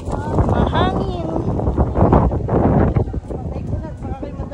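Strong wind buffets the microphone at a hillside shrine in Batangas, a steady loud rumble throughout while people talk over it.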